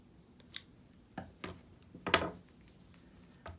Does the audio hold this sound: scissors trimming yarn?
yes